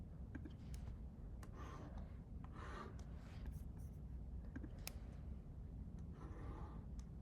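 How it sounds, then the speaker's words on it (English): A pen scratches across paper while someone draws a graph by hand, with faint intermittent strokes and light taps over a low, quiet background. "let me draw some random graph"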